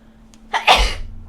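One person sneezes once, close and fairly loud: a short breathy intake followed by a sharp, explosive burst that quickly fades.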